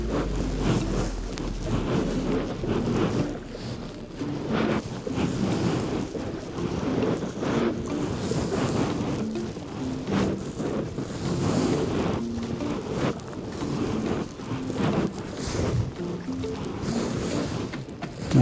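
Strong wind buffets the microphone on open water during a kayak trip on an Aqua Marina 320 inflatable kayak, a steady roaring rush with waves slapping, continuous throughout with no talk.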